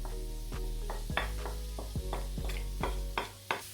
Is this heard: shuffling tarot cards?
no